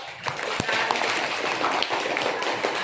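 A classroom full of people claps steadily for a few seconds, a dense patter of many hands.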